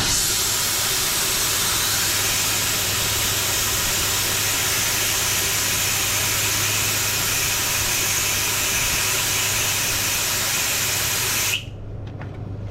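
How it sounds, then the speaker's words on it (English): Compressed air blasts steadily through an old fuel line from a 1969 Ford F250 under restoration, a loud continuous broadband hiss lasting about eleven seconds before cutting off abruptly into quiet. "we're just going to blast some air through this line and make sure it's nice and clear of any gunk or junk"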